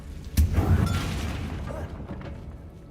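A Confringo blasting spell going off in Hogwarts Legacy, aimed at a battered bridge: one sharp, heavy boom, then a rumbling, crumbling tail that slowly fades.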